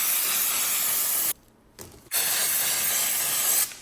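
Loud, close hissing spray cleaning a filthy bike chain, a long continuous burst, a short pause with a brief puff, then another sustained spray.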